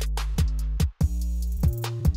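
An original, unprocessed drum loop in Ableton Live, playing several evenly spaced, punchy hits with a booming low end and bright cymbal-like transients above. The loop stays close and loud, with a brief dip in the middle.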